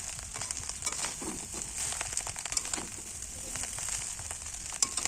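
Chowmein noodles fry in a pan with egg and cabbage, giving a steady, fairly quiet sizzle with scattered crackles and soft stirring scrapes throughout, no voices.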